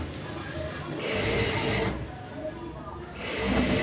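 A sewing machine stitches the front of a blouse in steady bursts of close mechanical whirring, pausing briefly between runs, with a voice talking over it.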